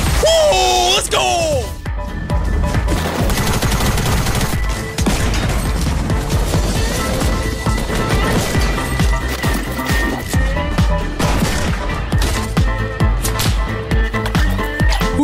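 Rapid bursts of gunfire in Fortnite crackle loudly and continuously under excited voices, with game music and impacts mixed into a dense, busy soundscape.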